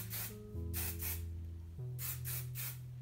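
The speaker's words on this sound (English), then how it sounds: "Now just give it a spray." A bottle of hair spray puffs several short, quiet hissing bursts in quick succession over a soft musical background while beach waves are being finished.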